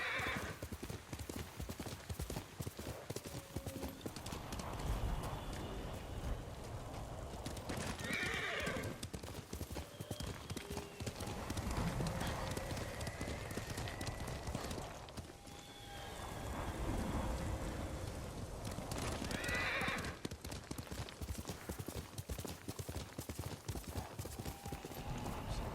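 Galloping horse hooves clip-clop steadily through a Ghost of Tsushima game scene, with a whinny, rain and rolling thunder around them; a rider's voice calls out briefly over the rhythmic hoofbeats.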